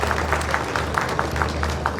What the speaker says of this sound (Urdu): اور اس کے لیے ایک دفعہ پھر آپ بھرپور تالیاں بجا دیں